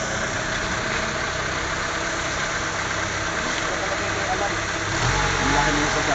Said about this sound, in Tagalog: Tatakbo po siya na nakaangat ang hood.